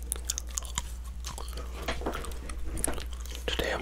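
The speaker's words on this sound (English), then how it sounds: "Today I'm chewing on some gum" Gum chewed close to the microphone, with soft, wet, irregular mouth clicks and squishes, quiet and intimate, with faint breathy sounds between bites.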